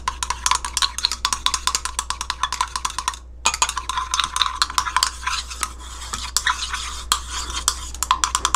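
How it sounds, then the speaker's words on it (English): A utensil stirs a homemade coconut oil and water lotion mixture rapidly in a bowl, producing fast repeated scraping and clinking strokes with a brief pause, close and clear with no speech. "And you mix well."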